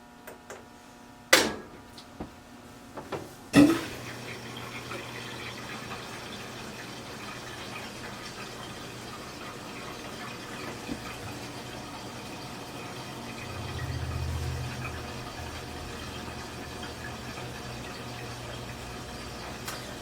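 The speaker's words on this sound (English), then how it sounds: "there's more water going through the valve now" Water rushes steadily through the valve of a filling front-loading washing machine after a few sharp clicks and knocks, with a low hum underneath and a brief louder surge near the end.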